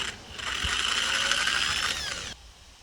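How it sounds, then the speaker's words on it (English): A power drill winds a thread-cutting tap out of a broken Mountfield mower blade holder boss: one steady, close mechanical whir with a ratcheting edge, lasting about two seconds before cutting off. "I'll just wind it off with the drill actually."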